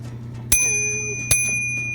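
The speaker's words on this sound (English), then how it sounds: "oh, you hear that bell? It does have a bell." The margin bell of a 1973 IBM Correcting Selectric II typewriter dings twice, bright ringing strikes about a second apart with lingering tones over a quiet mechanical hum.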